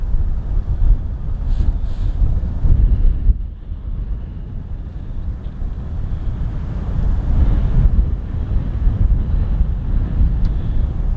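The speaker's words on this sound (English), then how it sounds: "boy, the wind is really picking up here" Strong wind buffets the microphone in an open park, making a steady, heavy low rumble with gusts that swell and ease over several seconds. No voices are heard.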